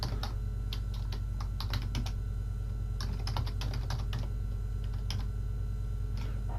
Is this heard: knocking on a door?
no